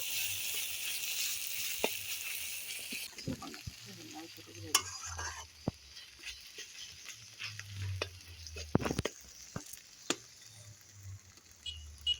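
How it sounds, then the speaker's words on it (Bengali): Ginger-garlic paste frying in a pan with a steady sizzle, broken by scattered sharp clicks and scrapes of a spatula stirring against the metal; moderately close and fairly soft, with no talking. "আদা রসুনটা এবার হালকা ভাজা ভাজা করে নেবো"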